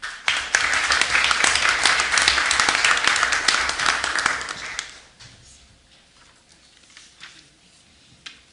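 Audience applause at a school board meeting, a loud burst of many hands clapping for about five seconds, then dropping to a few scattered claps and room noise.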